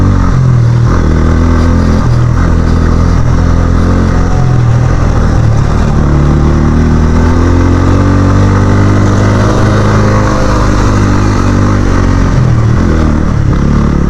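A motorcycle held in second gear pulls steadily uphill on a hill road, its engine loud and close with a continuous labouring drone, the pitch rising and falling slightly under load.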